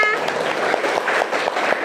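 A short burst of clapping from a class of students in a room, brisk and uneven, with voices mixed in underneath.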